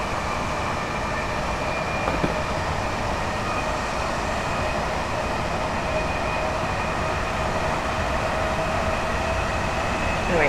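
LNER Azuma Class 801 train in motion, a steady low rumble of wheels on rails with a faint constant hum throughout, even and continuous, heard from inside.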